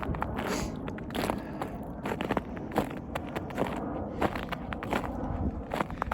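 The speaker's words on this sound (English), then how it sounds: "Snow's a little crunchy, a little icy." Footsteps crunch steadily on icy snow, a repeated gritty crackle with each step, close by and continuous.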